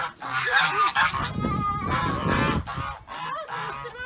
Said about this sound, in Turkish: Bu kazlar bizim kazlar olmasın?